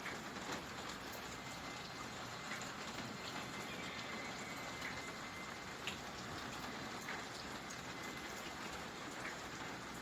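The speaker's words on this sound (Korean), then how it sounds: "오늘은 비가 오네요." Spring rain falls steadily on a garden of succulents and bulb flowers, a soft even hiss with scattered faint drops, continuous and unvoiced throughout.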